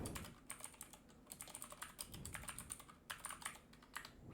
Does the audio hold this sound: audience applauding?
no